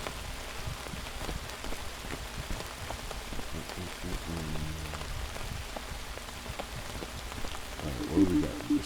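Rain in the Outbound video game, a constant pattering hiss of drops on surfaces throughout, with a few faint tonal game sounds layered over it.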